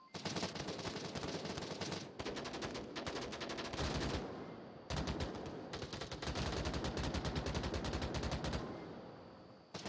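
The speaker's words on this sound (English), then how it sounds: "Shots back and forth, as we are into basically a stalemate." Sustained automatic gunfire trading back and forth in the Onward VR shooter during a competitive VRML Season 11 match, dense loud rapid bursts nearly continuous with brief pauses, close and dominant with no talk.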